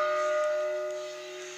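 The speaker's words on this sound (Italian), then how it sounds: "Sentiamo il campanone." Large church bell in a bell tower at Mirabello, Pavia, a single sustained ringing tone with a steady hum that slowly fades, heard clearly on its own.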